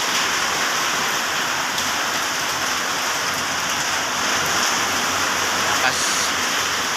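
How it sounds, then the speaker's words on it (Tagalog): Heavy rain pours outside at dawn in a dense, even hiss of drops striking surfaces, steady and loud throughout with no pauses. "Grabe, lakas ng ulan guys."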